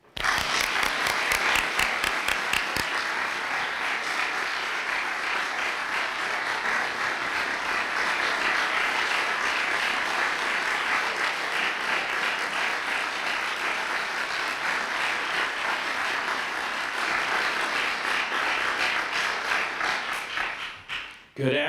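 Sustained applause from an audience welcoming a newly announced university president to the lectern, dense steady clapping for about twenty seconds before fading at the end.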